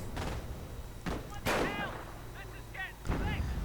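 StuG 42 assault gun shots in a strategy video game, several sharp booming blasts at irregular intervals, with whistling shell sounds between them and a voice faintly present underneath.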